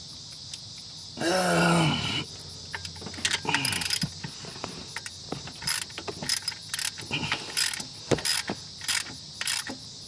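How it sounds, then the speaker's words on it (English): Ratchet wrench tightening bolts during an alternator replacement on a Dodge Ram truck, a series of short clicking bursts and metallic clinks with pauses between, close and fairly faint. "As you can see, there's still a lot of tightening left."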